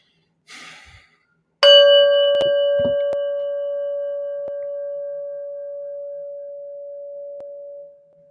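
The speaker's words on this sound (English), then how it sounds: "just listen to the prayer bell until it stops ringing" A single prayer bell is struck once and rings out alone, its clear sustained tone slowly fading over several seconds until it stops, after a soft breath and a faint knock before the strike.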